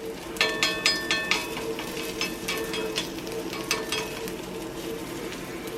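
German potato pancakes (Kartoffelpuffer) frying over medium heat in a cast iron pan: a close, continuous sizzle broken by crackling pops and a run of spatula scrapes and taps, with no one talking.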